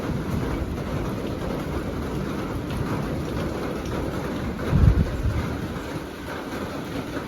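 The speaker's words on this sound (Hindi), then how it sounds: "इतनी तेज़ बारिश है" Steady, heavy rainfall in Jibhi, India roars continuously, with a brief louder low thump midway through.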